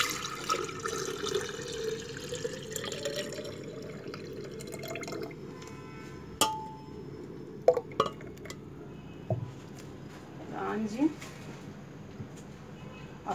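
Homemade orange juice, blended with boiled carrot and sugar, is poured from a container into a pitcher in a kitchen. The faint liquid trickle and splashes sit under a person talking, with a few clinks.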